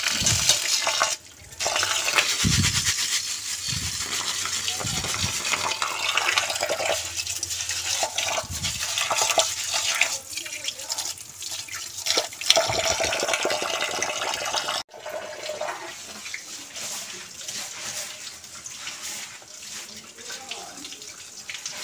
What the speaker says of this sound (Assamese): চাউলখিনি ধুব দি দিওঁ।